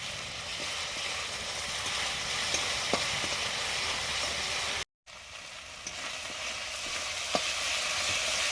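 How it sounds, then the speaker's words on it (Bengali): Spice paste (masala) cooking in a pan with added water, giving a steady soft sizzle throughout with a few faint stirring clicks and a brief dropout midway. "জল দিয়ে দিলাম, জল দিয়ে মশলাটা কষবো।"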